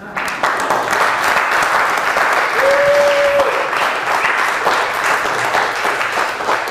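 Crowd applause at an outdoor gathering on Mount Zion, a thick, steady roar of many people clapping that fills the whole stretch, with a short whistle-like tone rising out of it midway.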